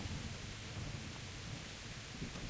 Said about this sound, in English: God, it's pouring.